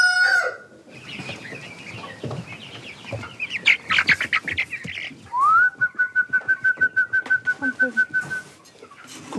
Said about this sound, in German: 230 Küken sind geschlüpft. Chinesische Zwerghühner und englische Orpingtons.